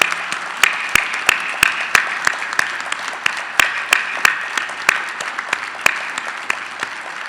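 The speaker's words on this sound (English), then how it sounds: "Let's give these folks a huge round of applause for their outstanding service to our town" A town meeting crowd applauds for staff and volunteers, scattered sharp claps standing out over a steady patter of hands that continues without pause, no voices over it.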